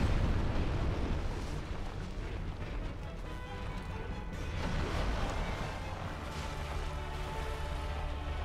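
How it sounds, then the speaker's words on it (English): Explosions in Dark Souls: Remastered during a boss fight, a continuous loud, rumbling barrage of booms with no pauses across the whole stretch. "those explosions are just killing me"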